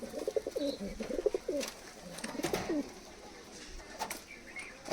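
Several teddy pigeons coo in repeated rolling, throaty bursts, fairly close, with a few sharp clicks and flutters scattered between calls.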